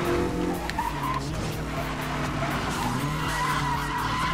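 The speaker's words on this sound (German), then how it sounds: "Also driften kannst du mit dem Auto gut." Tires squeal continuously as a car drifts in the racing video game Need for Speed Most Wanted, the engine droning steadily beneath the screech with no talk.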